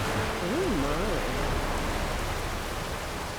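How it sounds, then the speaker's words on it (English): Rain falls in the video game The Witcher 3: Wild Hunt as a steady, soft hiss, with a brief wavering tone rising over it early on. "Looks like rain."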